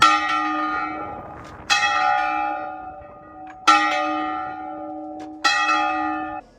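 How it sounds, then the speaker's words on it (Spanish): Funeral bells of the diocese church in San Cristóbal de las Casas, Chiapas, toll in mourning, with four loud, resonant strikes spaced a couple of seconds apart, each ringing on and fading slowly into the next. "la diócesis local hizo sonar 100 campanadas fúnebres en señal de duelo"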